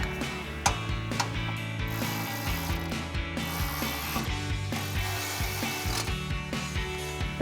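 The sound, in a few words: ratchet tightening bolts on Bronco brush guard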